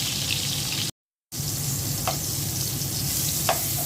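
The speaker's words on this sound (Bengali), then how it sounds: "বেগুনটা ভেজে এটার মধ্যেই তরকারিটা রান্না করে ফেলবো।" Eggplant slices fry in a pan, giving a steady, close sizzle that runs throughout, broken by one short silent gap and a couple of faint utensil clicks.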